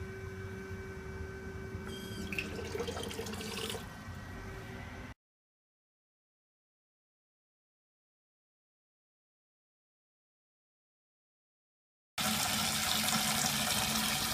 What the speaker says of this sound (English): we're filling cold water into bucket 1